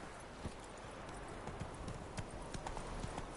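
The horse Roach's hooves clip-clop at a steady walk in The Witcher 3 video game, faint and fairly close, with soft game ambience around them.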